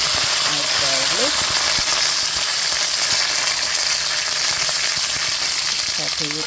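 Garlic added to hot oil with curry leaves and asafoetida sizzles and fries steadily in a pan for an Indian eggplant curry, a continuous close hiss with faint stirring clinks and a few brief voice fragments.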